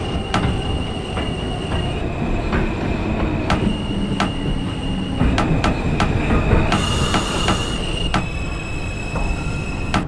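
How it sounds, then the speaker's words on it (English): An R160A subway train in the OpenBVE simulator runs on a J local line, a loud steady rumble of wheels on track with sharp rail clicks and a brief high squeal midway. "This is a Brooklyn-bound J local train."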